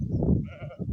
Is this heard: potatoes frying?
no